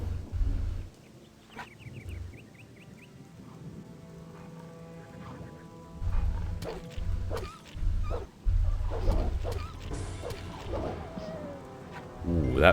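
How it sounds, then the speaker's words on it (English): A wolf growls and snarls in the fantasy role-playing game Gothic II, with several loud low bursts during combat, while a player talks over the game sounds. "There's a wolf."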